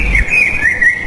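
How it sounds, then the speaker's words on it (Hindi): A crow arrives in a cartoon story, heard as one bright whistled bird chirp that slides up and down, loud, brief and alone. "तभी कालू कौवा वहां पर आ गया।"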